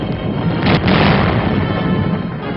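British cannon fire sinking ships on Lake Champlain booms as a dense rolling blast, with a sharper report rising in the middle of a continuous rumble.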